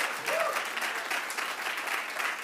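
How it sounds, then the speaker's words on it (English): Church congregation applauding, a dense, steady wash of clapping hands that carries evenly from start to finish. "Yeah, we can clap for the Lord."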